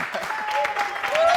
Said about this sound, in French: veuillez applaudir pour cette équipe.